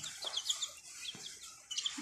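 Chicks of various breeds, fresh from an incubator and being raised on a farm, peep in rapid, high, thin chirps that come quietly and close together.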